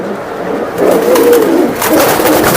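A racing pigeon coos nearby in a low, rolling warble, repeated twice over faint background noise.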